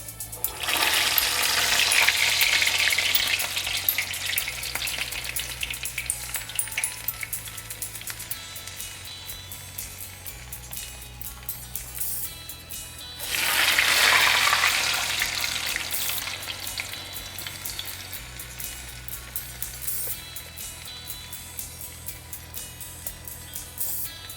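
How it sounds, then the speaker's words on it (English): Continuous crackling and bubbling of medu vada frying in hot oil, close and steady, swelling louder twice as pieces are added or turned. "Now I'm just going to be frying this vada in some hot oil."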